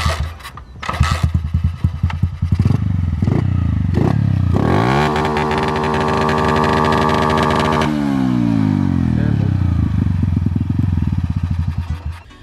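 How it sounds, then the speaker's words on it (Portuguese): A small motorcycle with CDI ignition and a Fortuna exhaust sputters and then revs hard, its engine note holding steady at a high pitch for several seconds before falling back to a loud, choppy idle. "Vamos funcionar a motinha."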